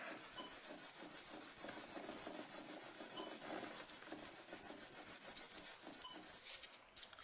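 Rhythmic back-and-forth rasping of sandpaper on wood, sanding both sides at once by hand, close and steady, the strokes repeating quickly and evenly for several seconds.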